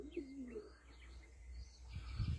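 Pet pigeons coo and flutter close by, with soft cooing calls early on and louder wing flapping rising toward the end, in a quiet outdoor setting.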